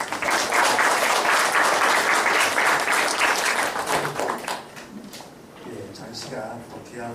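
A lecture audience breaks into loud, sustained applause that stays dense for several seconds, then thins into scattered claps. Someone speaks over the tail end.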